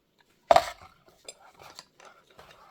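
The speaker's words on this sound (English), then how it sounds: "I'm just going to stir this" A utensil stirring doughnut batter in a bowl, one sharp clink against the rim followed by a few softer scraping taps.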